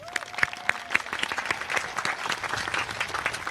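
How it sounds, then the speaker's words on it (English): An audience at a Class of 2024 commencement claps steadily for parents, caregivers and guardians, a dense, moderately distant applause filling the whole stretch with a few brighter whistles early on. "let's also recognize your parents, caregivers, guardians with a round of applause."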